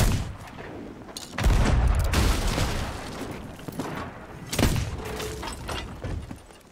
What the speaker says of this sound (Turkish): Ona top atmayın abi önümüzdeki şeye